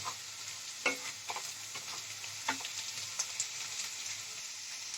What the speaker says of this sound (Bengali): পেঁয়াজটা আমার ভাজা ভাজা হয়ে গেছে এবার আমি এতে দিয়ে দিচ্ছি সামান্য একটু রসুন